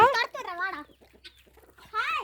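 Backyard chickens cluck repeatedly at close range around a house dog at feeding time, in two short bursts of rising and falling calls separated by a quieter gap.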